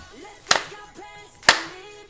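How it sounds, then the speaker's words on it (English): Two sharp, loud hand claps about a second apart, standing alone against a quiet background with faint music, as a listener reacts during a K-pop music video. "All right, clap your hands, y'all."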